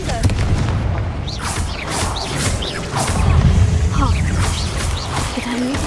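A Confringo fire-blast spell in Hogwarts Legacy goes off with a heavy booming crash and rumbling low-end debris, loud and close, followed by scattered smashing impacts under a continuous game soundscape.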